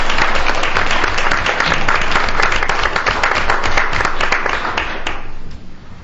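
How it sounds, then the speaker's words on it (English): A room at a council meeting breaks into a loud round of applause honoring a retiring employee, dense clapping close by that holds steady, then thins and fades out near the end. "join me in a round of applause for Bill"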